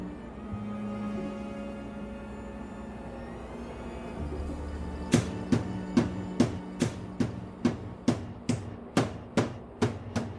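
A custom-made hammer pounding a pork chop for a pork chop bun in Macao: about fourteen steady, evenly spaced thuds starting midway, close and distinct over a constant background hum from the kitchen.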